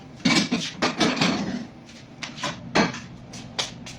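A whole chicken going into a kitchen oven, with several close clattering knocks of pan and oven rack and a door thud spread across a few seconds, no voices.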